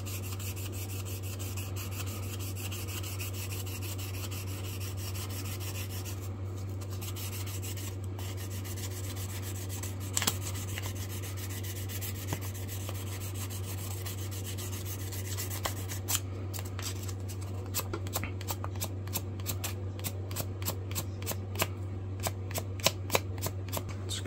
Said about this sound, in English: Now I'm going to touch it all with some 400 grit sandpaper, go over it